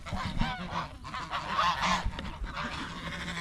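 Geese on a farm honk loudly and close by in a busy, overlapping chorus of repeated nasal calls, with no talking.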